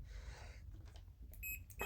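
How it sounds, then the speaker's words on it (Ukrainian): A multimeter in continuity test mode gives a few short electronic beeps when its probes touch during repair of old stabilizers, heard faintly near the end after a quiet stretch of background noise. "Щупи пищать."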